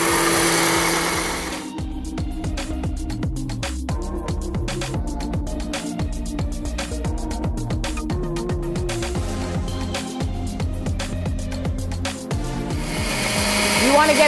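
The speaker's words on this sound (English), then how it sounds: "And we're gonna blend that all up." A countertop blender whirs steadily as it purees a marinade with olive oil, a loud continuous motor drone with shifting pitch that starts after a moment of kitchen noise and runs nearly the whole time before stopping near the end.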